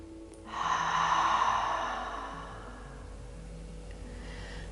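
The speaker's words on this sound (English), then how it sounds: "you should hear the sound of your breath." A single long, hissing yoga breath drawn through a tightened throat, close and fairly soft, fading out into quiet.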